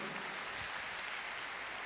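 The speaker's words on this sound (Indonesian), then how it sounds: "Berikan tepuk tangan yang meriah buat Tuhan" Church congregation applause during a sermon, a brief, faint wash of steady clapping in a large room.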